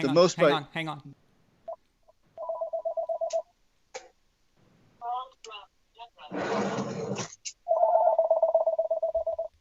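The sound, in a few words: telephone ringing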